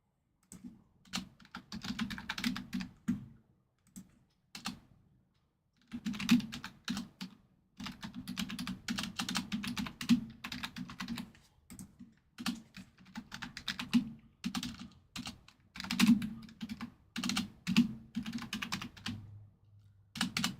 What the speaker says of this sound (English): Oh boy, I'm a typing mess today.